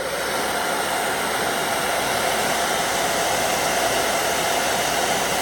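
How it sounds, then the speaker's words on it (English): A hair dryer blows steadily and loudly while heating vinyl for a bag, a constant airy roar with no pauses and no speech. "You might have to apply the dryer a couple of times."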